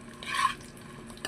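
Bananas frying in a pan: a short swell of sizzling and stirring lasting under half a second, close by, followed by quieter crackle and a faint clink at the end.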